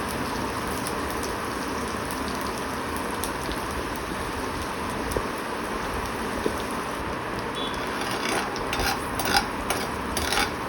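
Garlic cloves sautéing in melted butter for macaroni pasta, a dense, continuous sizzle like heavy rain, close and steady, with a few light utensil clinks near the end and no voices.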